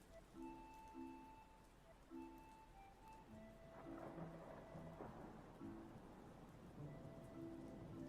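Steady rain patter under a soft melodic music track with sustained tones, thunder-like rumbles swelling in the middle.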